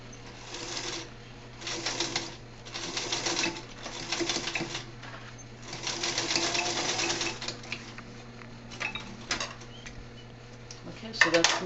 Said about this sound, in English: You should actually pin that, but I'm just holding it and sewing it.